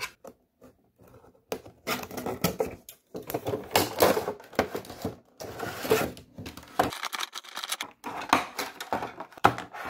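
A Lord of the Rings Mini Epics figure box being opened up close: irregular bursts of cardboard and plastic rustling, tapping and crinkling, with short quiet gaps between handling sounds.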